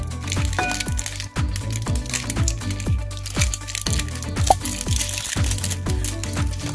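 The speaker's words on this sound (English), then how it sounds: "we're gonna take the zipper off." LOL Surprise doll packaging is unzipped and crinkled open, giving a string of crisp plastic rips and crackles in a rapid, uneven rhythm, close and fairly loud, alongside a steady low background hum.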